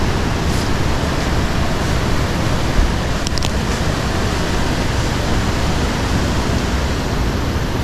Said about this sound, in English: Say this stream down here gets pretty wild.